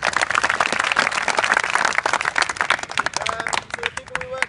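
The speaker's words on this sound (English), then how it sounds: "Round of applause." A group in India claps in a round of applause for staff at a football tournament, a brisk burst of hand claps for a few seconds under some crowd voices, tapering near the end.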